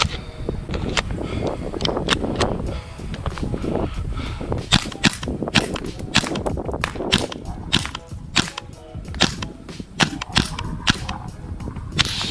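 A PP-2K gas blowback airsoft rifle fires BBs in sharp snapping shots. The shots come singly and in uneven bursts, close and loud over a steady background hiss.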